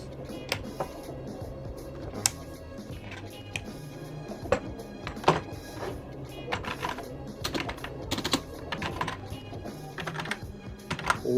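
Rapid, uneven clicking of fingers typing on a cheap plastic non-mechanical gaming keyboard, close and fairly loud, with the keystrokes running steadily and no talk.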